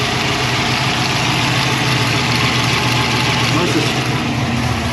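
A turbocharged 363 cubic inch small-block Ford in a Notchback at first start-up, idling with a loud, steady, close rumble and no break.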